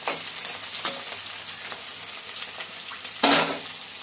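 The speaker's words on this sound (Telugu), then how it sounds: "ఫస్ట్ దొండకాయ బాగా వేగాలండి" Ivy gourd (dondakaya) fries in a pan with a soft, steady sizzle, broken by scraping stirs near the start and a louder stir burst toward the end; no talking.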